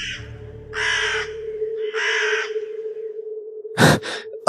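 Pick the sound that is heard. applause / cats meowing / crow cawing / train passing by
crow cawing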